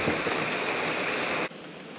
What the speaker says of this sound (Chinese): 又下雨，下好大的雨啊！